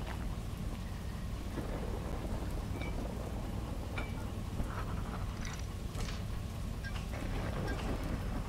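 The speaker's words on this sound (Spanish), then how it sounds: "Una intensa tormenta que apenas se puede ver." Heavy thunderstorm with steady rain in the train simulator game Derail Valley, a dense continuous roar of rainfall with low rolling thunder throughout, no voices.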